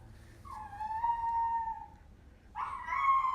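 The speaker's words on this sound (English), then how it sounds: "my dog is howling" A pet dog howls indoors in two long, wavering, mournful howls with a short pause between them, moderately close.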